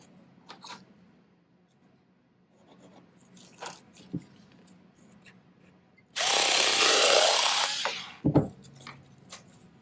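A piece of a whale 3D sculpture trimmed with a power tool: scattered light handling taps, then a loud, close whirring burst of about two seconds followed by a few knocks.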